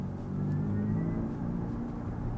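A 2025 Kia EV6 GT electric car accelerating hard from a floored pedal, heard from inside as a steady, loud low rumble with a rising drivetrain tone that holds throughout.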